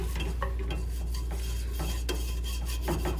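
A spatula scraping and stirring a flour-based sauce in a non-stick pan, with repeated soft rasping strokes and light clinks over a constant low hum, close and steady, no voices.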